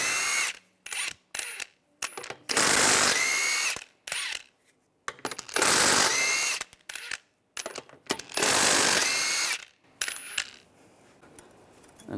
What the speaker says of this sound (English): Using a 21 millimeter socket,